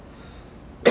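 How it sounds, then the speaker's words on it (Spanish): After a quiet, faintly humming room, a person lets out a single sharp, loud cough right at the end. "Voy a toser."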